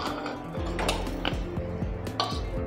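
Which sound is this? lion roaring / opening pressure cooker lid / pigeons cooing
opening pressure cooker lid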